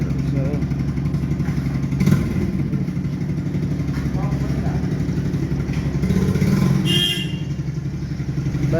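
Motorcycle engine running steadily at idle during repair fitting work at a bike repair stop, a continuous close mechanical drone with a few brief clatters over it.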